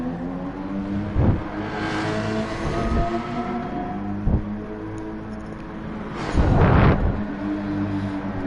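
Porsche Cayman race car engines roar in a sim racing game at Laguna Seca, a steady multi-car drone with gear-change dips and a louder car sweeping past near the end.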